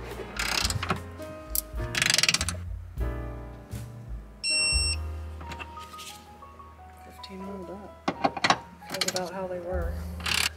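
A ratchet wrench snugs down the seat belt bolts on a Porsche Cayenne, giving bursts of rapid clicking close by, with a brief high electronic beep midway and occasional mechanical clunks.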